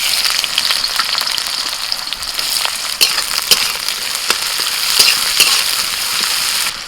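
Chopped onions hit hot oil already crackling with nigella seeds, giving a loud, steady sizzle throughout with occasional stirring clicks and no talking.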